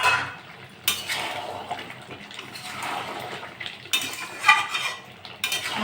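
Metal spoon scraping and clattering in a pan while chicken curry with whole onions and garlic is stirred and sautéed, repeated bursts of scraping with a soft sizzle between them.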